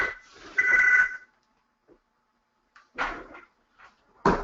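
A phone rings nearby in a home during an online software presentation, with a few short, separate bursts of ringing and quiet gaps between them.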